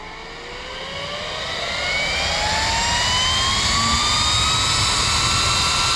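A motorized air pump on a variable speed controller whirs loudly nearby, its whine rising steadily in pitch as it speeds up, then holding a strong, even hum.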